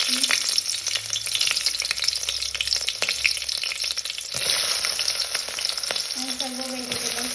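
Green chillies frying in hot oil as the base for vegetable fried rice, a loud, dense, steady sizzle and crackle with some stirring that runs unbroken from start to finish, with no talking.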